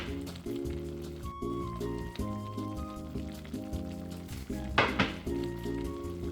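Chicken with chopped carrots and celery frying for Jamaican curry on a stove at medium heat: a steady close sizzle with occasional pan scrapes and stirring, under a sustained musical background.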